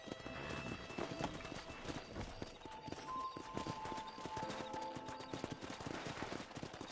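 Horses galloping in Red Dead Redemption 2, a dense clatter of hooves with possible whinnies over a busy, noisy game mix, quiet and steady throughout.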